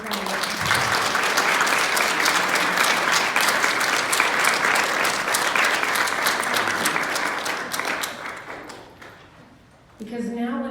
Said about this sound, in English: I would like to give her a special round of applause to thank her for her time.